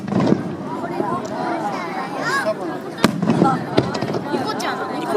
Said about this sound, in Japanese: 花火見て。